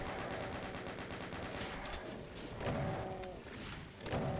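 Rapid, repeated super shotgun blasts in a Doom map, loud and close, with heavy booming gunfire running steadily throughout and no voices over it.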